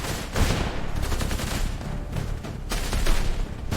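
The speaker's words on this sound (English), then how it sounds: "British volleys continued relentlessly." Eighteenth-century British musket volleys crackle as a dense battle sound effect, with overlapping bursts of gunfire rolling close and loud over a few seconds.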